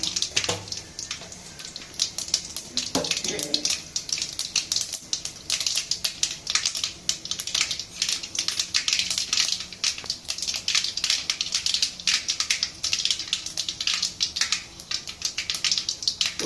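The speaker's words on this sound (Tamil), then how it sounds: "எண்ணெய் நல்லா காஞ்சிருச்சுங்க. கொஞ்சம் கடுகு போட்டுக்கலாம்." Mustard seeds crackle and splutter in hot oil for dal rasam, a dense, continuous hissing fizz with rapid sharp pops, close and fairly quiet, with no talk.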